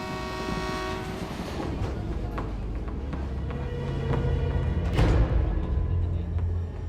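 A train pulling into a railway station, a loud rumbling roll with clanking wagons and a blaring horn, with voices talking over the noise.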